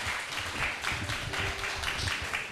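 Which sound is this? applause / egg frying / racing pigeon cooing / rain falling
applause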